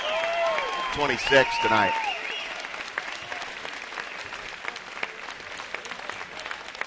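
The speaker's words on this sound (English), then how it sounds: "A nice round of applause for Dylan Graham" Crowd applause rings out in a gym at a college basketball game, Embry-Riddle against Palm Beach Atlantic, for a player's debut. Clapping swells early, then thins and fades as an announcer keeps talking over it.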